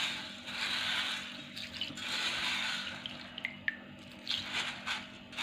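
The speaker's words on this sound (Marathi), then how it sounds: "या मुगामध्ये आपल्याला एक ग्लास पाणी टाकून आपल्याला धुवून घ्यायचे आहेत" Water sloshes and swishes as mung beans are rinsed by hand in a glass of water, a steady wet splashing with a few small drips and clinks.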